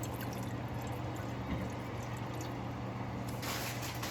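One cup of water poured for buñuelo syrup, a soft, faint trickle and splash running steadily for a few seconds with no voices.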